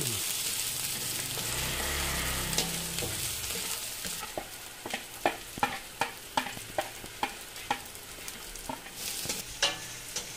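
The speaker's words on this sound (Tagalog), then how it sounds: "Igisa ng sibuyas at bawang." Onion and garlic sautéing in oil for a Filipino kare-kare: a steady sizzle at first, then a run of sharp, regular spatula scrapes and taps against the pan.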